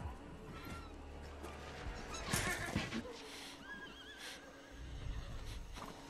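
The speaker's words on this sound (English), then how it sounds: "they fight in the middle of a horse stampede" Horses whinny and neigh several times amid hoofbeats and clattering action noise during a movie horse stampede, moderately loud with overlapping bursts.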